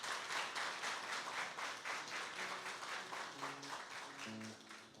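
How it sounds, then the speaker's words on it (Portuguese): Church congregation applauding at a family conference, a steady wash of clapping throughout, with faint voices and some tonal sounds joining near the end. "Uma salva de palmas."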